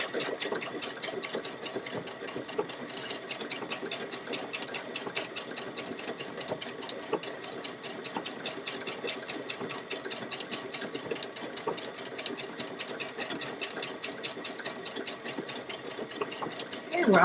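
A Baby Lock Solaris 2 sewing machine stitches continuously with a steady, fast mechanical rattle throughout, with a voice talking over it.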